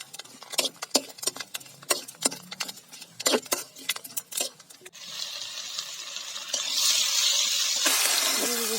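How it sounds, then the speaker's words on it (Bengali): Panch phoron spices crackle and are stirred in hot oil, first as sharp irregular clicks of a utensil in the pan, then giving way to a steady, growing sizzle without talk. "তেলটা ভালো মতো গরম আছে, দিয়ে দিব পাঁচফোড়ন, পাঁচফোড়নটা একটু নেড়ে নেব"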